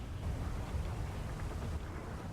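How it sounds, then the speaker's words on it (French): Rumbling thunderstorm in the GTA V game played on a FiveM roleplay server, a steady low, rolling roar with rain-like hiss that stays moderately loud throughout, with no voices heard. "Oui, il y a de l'orage, vous avez peur?"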